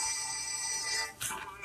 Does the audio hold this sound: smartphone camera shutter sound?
no